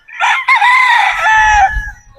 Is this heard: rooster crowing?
yes